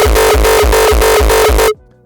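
A processed uptempo bouncy kick drum with effects applied repeats about six times in a fast steady bounce, dense and loud with a booming low end, then cuts off abruptly.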